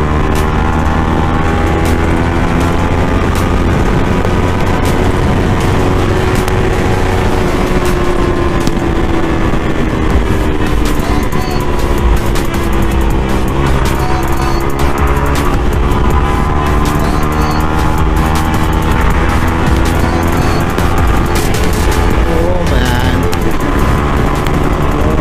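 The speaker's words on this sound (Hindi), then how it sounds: "बाइक थोड़ी से भगाए जाए" A motorbike accelerates along a highway just past a toll plaza, its engine note rising steadily and droning loudly and continuously through the whole stretch, with heavy wind rush over the microphone.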